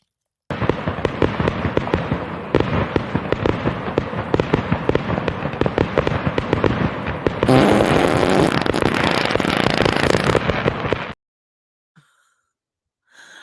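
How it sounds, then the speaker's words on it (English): A fireworks sound effect: a dense, continuous volley of crackling bangs and pops for about ten seconds, swelling into a louder hissing crackle near the end before cutting off abruptly. "Oh, fireworks."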